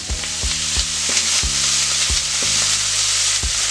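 Vegetables sizzle in generous butter in a pan for chicken fajitas, a steady bright frying hiss with a rhythmic series of sharp close taps and scrapes from stirring, about one every half second, with no talking.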